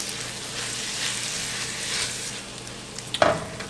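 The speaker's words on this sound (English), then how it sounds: "kind of just mix this all together" Bacon cheeseburger empanada filling stirred and mixed in a hot pan, a soft steady sizzle with faint scraping, ending in a sharp clack of the utensil against the pan.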